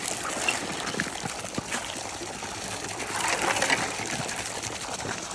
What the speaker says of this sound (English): And then we're going to take our rake and we're going to push that off.